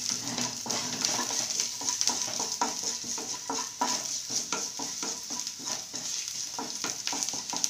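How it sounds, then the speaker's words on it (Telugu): Five cloves of garlic frying in a pan for veg manchurian, a steady bright sizzle with frequent rhythmic scrapes and clicks of a spatula stirring close by. "వెల్లుల్లి బాగా వేగాలండి"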